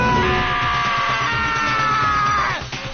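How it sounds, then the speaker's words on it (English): A sustained, loud scream rings out from a character in the video game Danganronpa Trigger Happy Havoc, holding steady for over two seconds before breaking off abruptly. "hey, I heard screaming"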